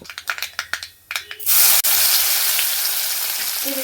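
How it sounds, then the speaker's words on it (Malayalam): Mustard seeds pop and splutter in hot coconut oil in a pan, a run of sharp crackles that gives way to a loud, steady sizzling hiss close by, with no talking. "ഞാൻ വെളിച്ചെണ്ണ അടപ്പത്ത് വെച്ചു കടുകിട്ട് പൊട്ടിക്കൊണ്ടിരിക്കുകയാണ്"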